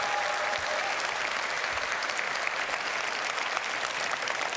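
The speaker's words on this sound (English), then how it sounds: "So please, a round of applause for the developers." A large convention audience of about 4,000 people at a game developer event claps steadily for the developers, a dense, even wash of applause that holds at full strength throughout.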